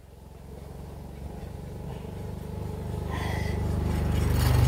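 A motorcycle engine on a muddy dirt trail grows steadily louder as the bike approaches, a low droning rumble that rises toward the end of the clip.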